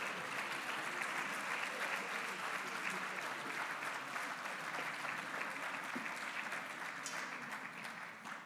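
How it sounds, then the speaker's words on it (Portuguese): Sustained applause from a seated crowd of newly registered dentists honouring long-serving colleagues at a professional oath and honour-medal ceremony in Viseu, steady dense clapping throughout that eases slightly toward the end. "os médicos dentistas recém-inscritos vão aplaudindo os vossos colegas com mais de 30 anos"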